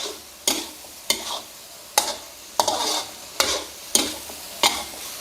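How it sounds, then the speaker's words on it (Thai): Spring onions sizzle in a hot pan with chicken while a utensil scrapes and tosses them in regular strokes, roughly one every second. "ใส่ต้นหอมหั่นท่อนลงไปครับ แล้วก็ผัดคลุกเคล้าให้เข้ากัน"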